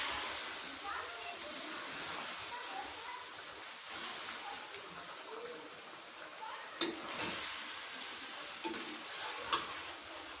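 Chicken feet fry in a pan with a steady, close, crackling sizzle, broken by a few scraping stirs and knocks, while a person talks quietly under the cooking.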